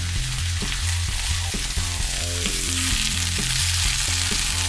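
Bell pepper and onion frying in a pan, a loud, dense sizzle that runs continuously, layered over a repeating low rhythmic pattern that persists throughout.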